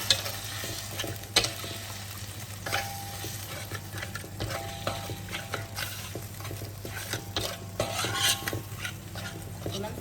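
Thai curry paste being stirred and dissolved in a pan for oil-free minced pork khua kling, with a low steady sizzle and regular metallic scraping and tapping of a utensil against the pan, close and without talk.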